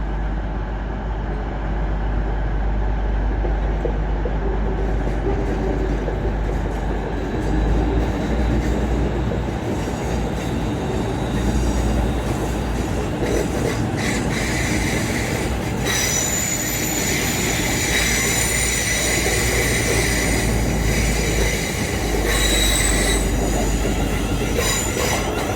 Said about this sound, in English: Departing on platform 1 is going to be a pair of EMR Class 360s